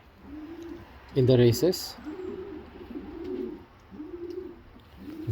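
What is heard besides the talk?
racing homer pigeon cooing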